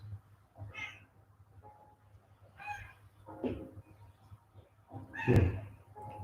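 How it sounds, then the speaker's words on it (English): A cat on a sofa gives a few soft, separate meows at a quiet, indoor distance over a low steady hum, with one louder call near the end. "Cat's joined us on the sofa tonight."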